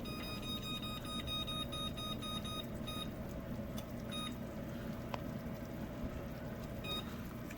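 A kitchen timer set for twelve minutes while cooking shrimp etouffee beeps in short repeated electronic chirps, clustered in quick groups and then single pips, over a steady background rush of kitchen noise.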